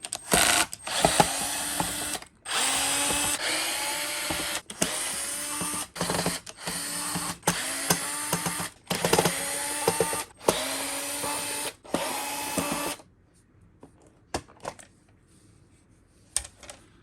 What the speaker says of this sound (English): So all we're going to do is pull all these screws out.